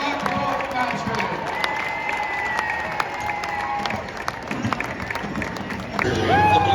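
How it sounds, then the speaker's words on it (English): Applause and cheering from a large arena crowd at the Pendleton Round-Up Happy Canyon Night Show, honoring the 2023 Happy Canyon Princesses; steady dense clapping with scattered whoops throughout, swelling louder near the end. "let's give them a big round of applause"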